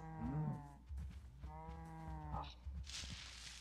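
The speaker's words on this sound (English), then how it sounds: "I'm just gonna round up these cows" Cattle in the Minecraft video game low repeatedly, two drawn-out harmonic moos close by with a shorter call at the end, plus faint game noises.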